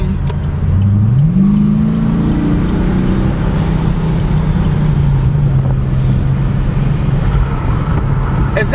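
A car engine revs up hard, its pitch climbing sharply and then holding at a steady high drone as it powers past a van on a roadway, with continuous close engine and road noise throughout.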